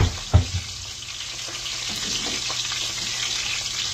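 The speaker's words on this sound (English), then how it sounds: "it's good and hot, and it's frying in this little skillet kettle" Country ham fries in a small, very hot skillet with a steady, bright sizzle and a couple of sharp pops near the start.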